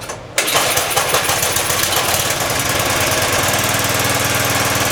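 A Craftsman snowblower engine that runs slow catches after a pull and settles straight into a loud, steady, close-up idle with a fast, even chug.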